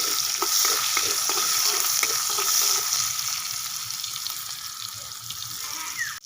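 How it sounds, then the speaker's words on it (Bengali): Chopped onion fries with black cumin in mustard oil, a loud, dense sizzle that holds steady and then eases slightly, with light stirring taps early on. "কুচনো পেঁয়াজ দিয়ে পেঁয়াজটা একটু ভেজে নিচ্ছি"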